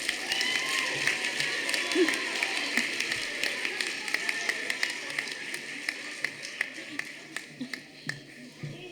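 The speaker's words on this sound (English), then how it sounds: "Let's give all these students another big round of applause." Audience applause and scattered cheering at a high school senior awards night, with sharp individual claps standing out near the microphone as the clapping thins toward the end.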